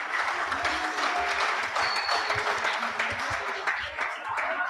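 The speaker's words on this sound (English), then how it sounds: "Please, a big clap." An audience at a school debate competition bursts into sustained applause after the winner is announced, a dense, loud wash of clapping lasting throughout with faint voices underneath.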